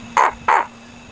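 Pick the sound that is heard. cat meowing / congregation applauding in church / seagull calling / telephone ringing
seagull calling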